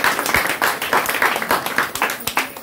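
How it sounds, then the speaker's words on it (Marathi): Applause from an audience after a dance performance at a Ganesh festival celebration, a few seconds of lively, uneven clapping with scattered individual claps. "सर्वांनी प्लीज जोरदार टाळ्या वाजवा"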